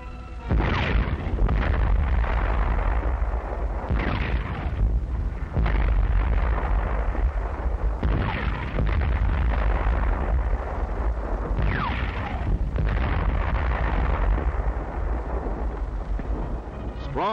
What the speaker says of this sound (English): On this great range, our tanks are spitting steel.